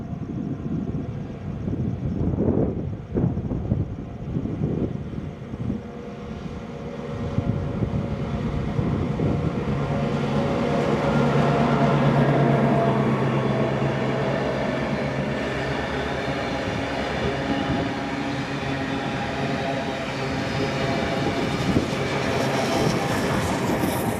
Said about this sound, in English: (4201) is now seen pulling 3265 and its train back to Maitland.